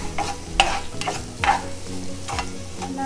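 Onions sautéing in a pan with ginger, garlic, green chili and coriander paste, a soft sizzle punctuated by a few spoon stirs and taps, close and moderately loud with no speech.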